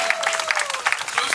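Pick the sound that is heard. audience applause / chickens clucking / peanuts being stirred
audience applause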